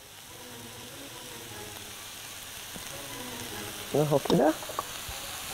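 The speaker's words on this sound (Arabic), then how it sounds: "اقلب اقلب، بصوا كل الخضار كده مع بعض، البصل والجزر والمشروم والكوسة اهي" Onion, carrot, mushroom and zucchini sizzle steadily in a frying pan while being stirred, with a scraping stir and a short spoken phrase near the end.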